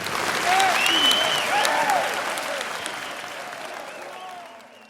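Crowd applauding a political speech at a German Workers' Party meeting, broad sustained clapping that swells early and slowly fades across the span, with scattered shouts and whistles rising above it.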